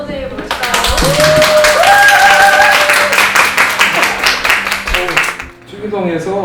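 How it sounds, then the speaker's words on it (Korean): An audience at a community talk about the ten-year history of Chunui-dong, Bucheon, claps for the guest speaker, with loud applause rising over a voice and music-like tones before fading out near the end. "저희 박수로 선생님 모실까요?"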